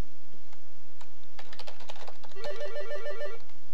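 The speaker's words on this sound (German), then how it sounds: "hier klingelt gerade das Telefon" A telephone rings in an office or home workspace, a short repeating electronic trill heard after a few keyboard taps, fairly close and with no one talking.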